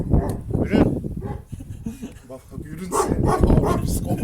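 A large Kangal dog barks a few times up close, deep woofs mixed with people talking over it.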